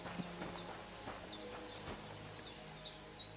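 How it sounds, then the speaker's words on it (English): A horse in the video game Kingdom Come Deliverance 2 clip-clops at a steady walking pace, hooves thudding rhythmically and fairly quietly, while birds chirp repeatedly in the background. "That is a fine looking horse."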